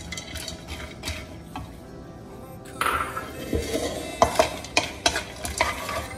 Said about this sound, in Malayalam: ആദ്യം തന്നെ നട്ട്സ് വറുത്തെടുക്കാണ്